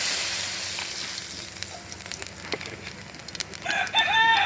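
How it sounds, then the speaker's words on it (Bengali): Nigella seeds hit hot oil in a wok with a crackling sizzle that starts strong and thins out, dotted with sharp pops, while a rooster crows nearby at the end. "কড়াইতে আমি কালো জিরে দিয়ে দিলাম,"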